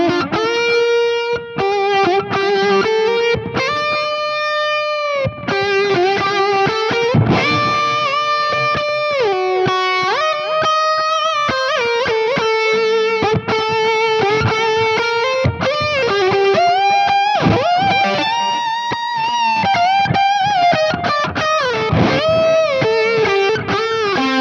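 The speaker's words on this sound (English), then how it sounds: "I switched there from the tight gain channel to the clean channel with the tube driver in it" An electric guitar plays melodic single-note lines with sustained, bending notes through the clean channel of an amp with a tube driver pedal, loud and continuous and without speech.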